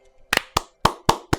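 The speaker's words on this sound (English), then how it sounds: "then we clap" A small group claps hands together in five sharp, distinct claps spaced unevenly over about a second, close and loud against a quiet room.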